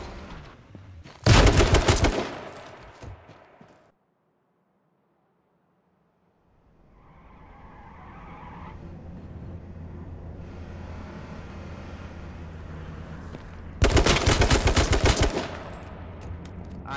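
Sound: gunshots from the video game H1Z1

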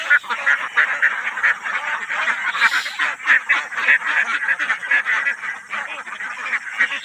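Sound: ducks quacking

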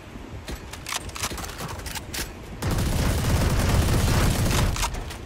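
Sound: gunfire in a video game

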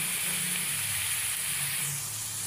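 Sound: garlic-ginger paste and green chillies sizzling in hot oil

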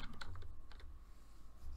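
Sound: typing on a computer keyboard

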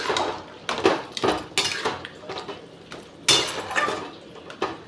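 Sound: stirring aloo posto in a pan

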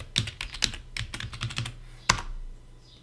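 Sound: typing password on computer keyboard

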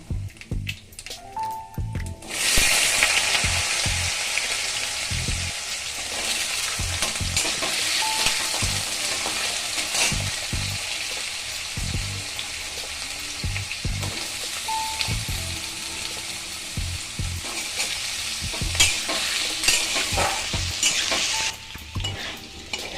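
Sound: potatoes frying in a pan with nigella seeds

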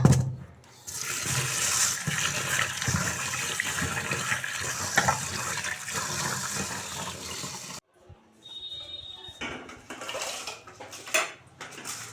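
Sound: tap water filling a pot to cook rice

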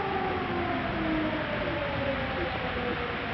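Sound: civil defense siren

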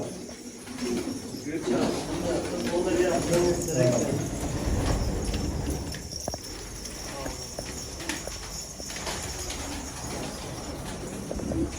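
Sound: pigeons at a Gaziantep pigeon coffee house

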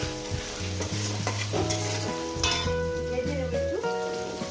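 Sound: onions frying in pan for chicken curry

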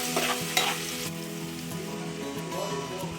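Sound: garlic frying lightly in oil

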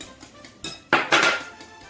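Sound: mixing chocolate cake batter in a bowl

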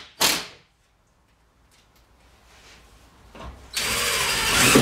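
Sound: power drill driving screws into studs

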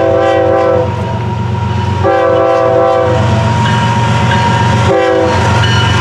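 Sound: freight train passing with horn

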